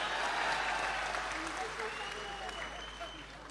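Dense applause from an audience at a comedy poetry show, steady and fairly faint from start to finish, with a hint of voices mixed into the clapping.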